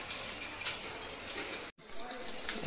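Tap water runs steadily at an outdoor village tap, a broad continuous gushing rush with a brief cutoff near the end before the flow resumes.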